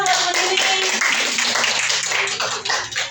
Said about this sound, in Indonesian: Oke, tepuk tangan dong buat Bu Nini.